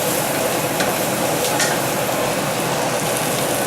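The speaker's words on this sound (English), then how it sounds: "Stir the onions so they don't burn." Onions caramelizing in a hot pan while being stirred; a loud, continuous sizzle fills the moment with a few faint scrapes from the stirring.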